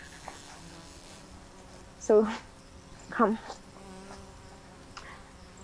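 Honey bees at an apiary in Matuu, Kenya, hum in a steady, faint drone around the hives, while a person speaks briefly over it.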